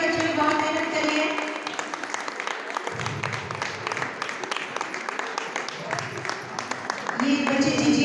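Applause for children at an ISKCON temple gathering in Bahadurgarh, with steady crowd clapping throughout and a speaking voice over it.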